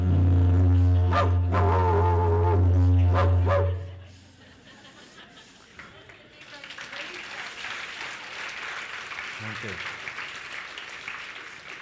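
A recording of a dog barking plays at a conference, with several sharp yips and barks in a loud burst over voices, then fading into murmuring crowd chatter.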